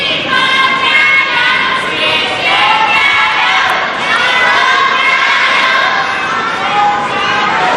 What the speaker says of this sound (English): In doubles, the chants get a little bit more complicated from the crowd.